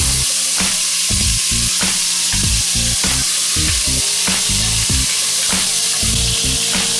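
Spices crackle and sizzle in hot oil while frying for daal, a constant loud hiss broken by frequent sharp pops and crackles, close up with no talking.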